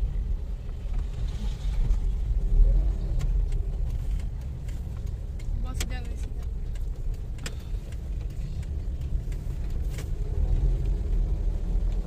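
A car drives along the road, heard from inside as a steady low engine and road rumble throughout, with a few faint clicks and small knocks.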